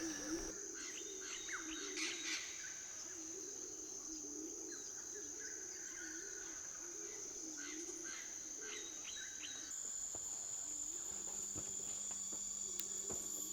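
Soft, low, rhythmic cooing of imperial pigeons on Seram repeats in slow, wavering phrases under a constant high chorus of insects in the Moluccan forest, with faint bird chirps scattered through.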